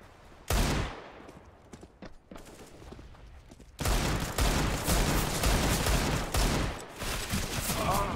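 Rapid automatic gunfire bursts from a CS:GO rifle spray, loud and close, in sharp clusters after a brief opening burst, then a long dense stretch of continuous shooting with other game noise.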